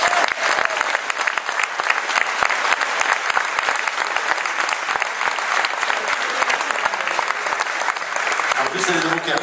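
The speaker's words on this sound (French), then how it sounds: "Je vous demande d'applaudir, s'il vous plaît, Olivia, s'il vous plaît." Loud, sustained applause from a crowd at an orchestra presentation, dense steady clapping throughout that begins to thin near the end as a voice cuts in.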